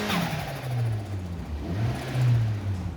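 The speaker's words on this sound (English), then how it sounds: "If you want to hear this little car make this little noise" A small Mazda MX5 (NB) engine idles and revs up in gentle, rising swells, steady and fairly close, with no one speaking.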